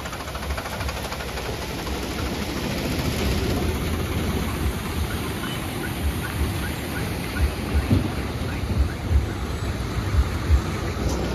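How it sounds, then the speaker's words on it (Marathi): The Kada river in flood after very heavy rain in Ashti taluka sends out a continuous, loud broadband roar of rushing water that stays steady for the whole stretch, with no voices over it. "नदीला पूरस्थिती निर्माण झालेली आहे, आपण पाहू शकतो"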